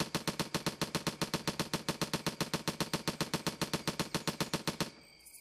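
The Hero Splatling mod fires in the video game Left 4 Dead 2, a loud, steady burst of evenly spaced rapid shots, roughly six per second, running nearly five seconds before cutting off into a short quiet tail.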